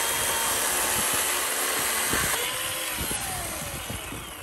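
A Ryobi 18V battery chainsaw runs close by with a steady high motor whine, and its pitch shifts partway through with a few sharp knocks of the saw working.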